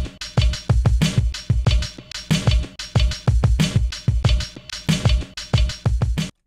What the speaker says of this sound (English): It was a 4-bar drum loop.